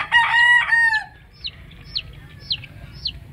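A rooster crows loudly and close by for about a second, followed by a series of short, sharp, repeated calls from the fowl at a regular pace.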